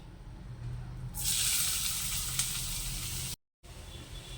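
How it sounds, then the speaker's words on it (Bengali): Pumpkin pieces, about 400 grams, dropped into hot ghee for halwa, a sudden hissing sizzle that swells after a quiet start and continues steadily, broken briefly by a moment of silence near the end. "এখানে 400 গ্রামের মতো মিষ্টি কুমড়ো আমি কুড়িয়ে নিয়েছি, সেটা এখন ঘিয়ের মধ্যে দিয়ে দিচ্ছি।"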